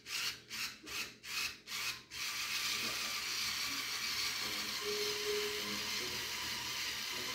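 A screwdriver rhythmically turns tight screws into a chrome-plated engine cover on a Redcat RC model, five quick rasping twists up close, followed by a steady hum of background noise.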